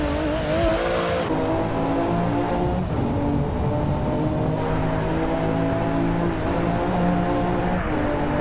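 A race car engine screams through repeated upshifts and pitch climbs in Forza Motorsport 7, loud and continuous, with faint tyre noise beneath.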